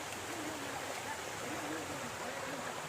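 Steady broadband rush of river water flowing past, a continuous hiss without breaks, fairly close and even in level, with no talk over it.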